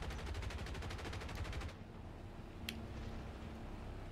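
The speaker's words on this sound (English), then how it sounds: "Everybody's shooting." Rapid, evenly spaced machine gun bursts from aircraft guns in a simulator battle game with P-47 D and P-63 C-5 fighters, a steady clatter for about a second and a half, then it cuts to engine drone with a single distant crack.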